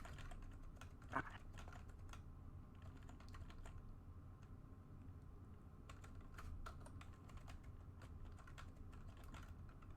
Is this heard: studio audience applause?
no